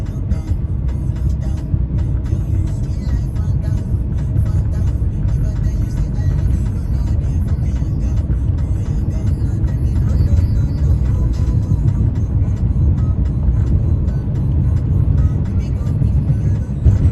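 Pickup truck driving through farmland outside Fresno, a steady low engine and road drone with wind noise that persists at an even level throughout, with a voice speaking over it.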